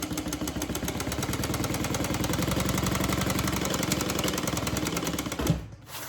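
Sewing machine stitching along a seam of a handbag, running as a steady fast mechanical rattle, close and loud, then stopping abruptly near the end.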